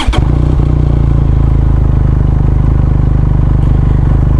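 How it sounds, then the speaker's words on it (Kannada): A Benelli TRK motorcycle engine fires up with a brief clattering crank, then settles into a loud, close, steady idle with a rapid even pulsing thump. "ಗಾಡಿ ಸ್ಟಾರ್ಟ್ ಮಾಡ್ಕೊಳ್ಳೋಣ."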